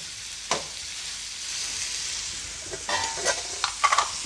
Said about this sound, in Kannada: ಇದು ಬೀನ್ಸು ಹಾಗೆ ಟೊಮೊಟೊ ಎಲ್ಲವನ್ನು ಹಾಕ್ಕೊಂಡ್ಬಿಟ್ಟು ಚೆನ್ನಾಗಿ ಫ್ರೈ ಮಾಡ್ಕೊಳ್ತೀನಿ